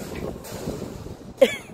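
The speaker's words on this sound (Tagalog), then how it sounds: "Lakas pa ng hangin." Steady wind on Sugumsan mountain, South Korea, buffets the microphone with a low, rumbling roar, briefly gusting louder near the end.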